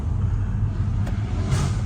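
Tuned, non-stock BMW G81 M3 engine rumbling steadily with a deep low drone, fairly close and continuous, with no voices over it.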